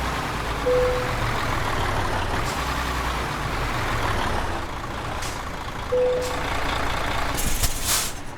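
A truck reversing into a parking spot in Euro Truck Simulator 2, steady engine rumble under repeated reversing beeps, with air-brake hisses and a sharp release burst near the end.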